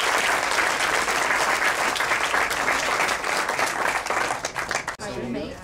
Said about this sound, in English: So once again, let's give up one more round of applause for Matthew.